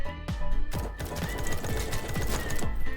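Rapid gunfire in the Roblox War Tycoon shooter game, dense, loud bursts of repeated shots crackling close and continuous with no talk over it.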